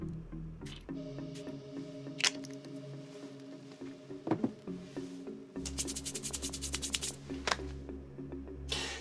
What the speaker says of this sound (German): Denn durch das Reiben zerstört man die Duftmoleküle.